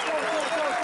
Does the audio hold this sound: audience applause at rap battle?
yes